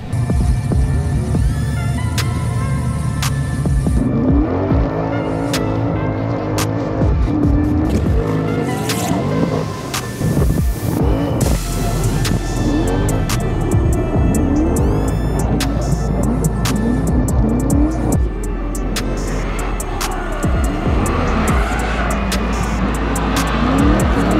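A drift car at the CFD Val-d'Argenton 2023 drift competition revs hard with its tires spinning, producing a loud, continuous engine roar with rising and falling revs and squealing rubber, close and dominating throughout.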